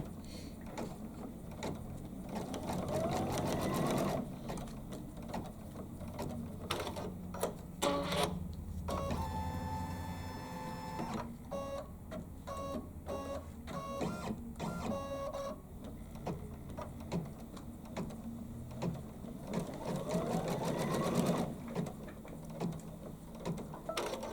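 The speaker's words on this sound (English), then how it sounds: "it's going to do 2 little stitch outs to show me where to put my ribbon" An embroidery machine stitching two short placement lines to mark where ribbon goes on a Kimberbell project, a rapid mechanical whirring and clatter with brief pauses and bursts of faster needle strikes, no voices.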